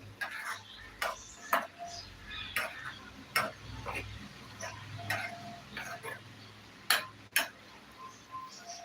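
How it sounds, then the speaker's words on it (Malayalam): A spoon stirs curd in a bowl, giving a series of quiet, irregular clinks and taps against the sides. They come close up and faint over soft background hum. "നമുക്കത് ഒരു സ്പൂൺ കൊണ്ടുവന്നിട്ടുണ്ട് ഒന്ന് ഇളക്കി കൊടുക്കാം നന്നായിട്ട് ഇളക്കി കൊടുക്കാം"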